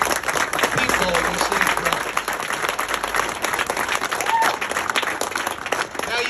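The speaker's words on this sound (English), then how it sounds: "A hearty round of applause for these 4 Chiefs" Audience applause at a Chief pinning ceremony in 2022, steady clapping throughout with someone talking over it.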